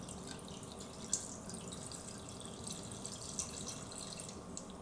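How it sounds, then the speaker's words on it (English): Water runs steadily into a pot of braising soy sauce chicken, a continuous soft splashing stream with faint drips, heard alone and fairly quiet. "Then add some water to braise the chicken."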